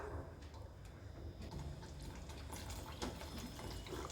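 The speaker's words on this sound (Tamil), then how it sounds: "இன்னும் கூட கொஞ்சம் தண்ணி ஊற்றிக்கலாம்" Water is poured into a mushroom masala gravy in a cooking pan, giving a steady, close, quiet splashing and trickling that runs without a break.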